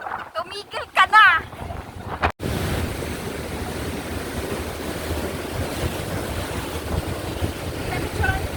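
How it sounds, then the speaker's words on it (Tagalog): Strong wind roars steadily into the microphone at Pagudpud, Ilocos, a loud continuous rumble and buffet, after a brief burst of voices and a sharp cutoff at the start. "sobrang hangin dito"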